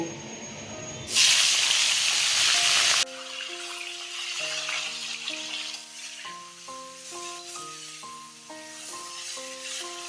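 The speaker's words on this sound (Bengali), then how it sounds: "ইলিশ মাছের মুড়োটা ভেজে নেব" Hilsa fish head pieces rubbed with salt and turmeric sizzle loudly as they hit hot oil, a sharp hissing burst that settles into steady frying beneath a melodic tone sequence.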